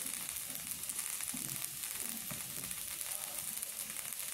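Turmeric and chili powder sautéing with beef for Angamaly-style beef ularthiyathu, giving a soft, steady sizzle and hiss with faint occasional scrapes in the pan.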